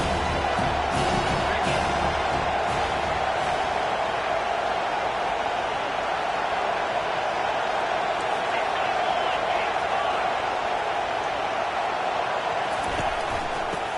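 Stadium crowd at a football game roars in a steady, dense wash of cheering that holds at an even loudness for the whole stretch, with no clear break or lull.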